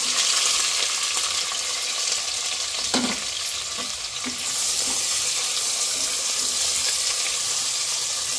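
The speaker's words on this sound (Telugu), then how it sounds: "ఇంకటండి మీడియం సైజు 4 ఉల్లిపాయలండి కట్ చేసి వేసుకున్నాను." Chopped onions, curry leaves and green chillies frying in a pan for a home-cooked chicken masala curry, a steady close sizzle with a few stirring clatters, no talking.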